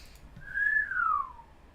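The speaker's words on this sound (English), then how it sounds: "Someone in the crowd wolf whistles at us" A single wolf whistle from a crowd in the visual novel game Nekojishi, a faint gliding tone that rises and then falls over about a second, heard alone against a quiet background.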